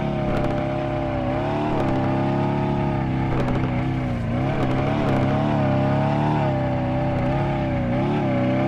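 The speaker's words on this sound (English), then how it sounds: "And we're gonna see how good the drifting is." In the Drive World racing game, a 2023 Dodge SRT Challenger Demon engine drones loud and steady through a drift, its pitch rising and dipping as the throttle is worked, with no talk over it.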